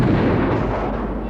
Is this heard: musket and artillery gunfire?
yes